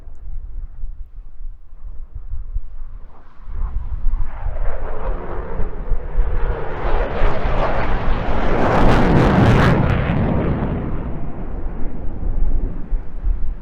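A Eurofighter Typhoon fighter jet flying a display at the Eastbourne Airshow 2025 makes a loud, continuous roar that swells to a powerful peak midway and stays heavy. Wind buffets the microphone throughout, and no one talks.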